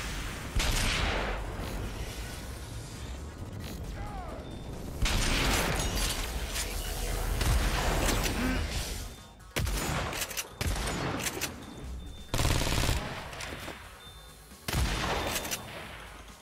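Gunfire in the Agents of Mayhem video game rattles in dense, overlapping bursts and fusillades over a steady rumble of action, with short pauses between volleys, fairly loud throughout.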